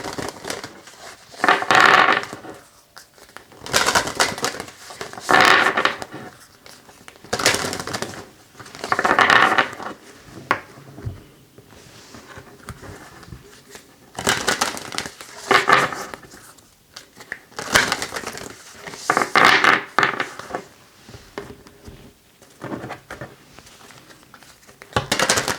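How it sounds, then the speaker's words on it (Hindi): Tarot cards shuffled by hand in a series of bursts of papery riffling and slapping, each lasting a second or two with short pauses between, close and fairly loud with no talking. "ओके, आपके कार्ड्स को शफल करेंगे।"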